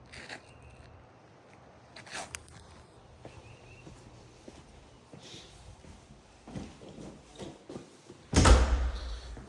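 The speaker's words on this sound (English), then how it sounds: "This door takes you out to the patio." A patio door off a sunroom in a model home opens and closes, with soft handling clicks and a louder thud or slide near the end, amid quiet footsteps and room ambience.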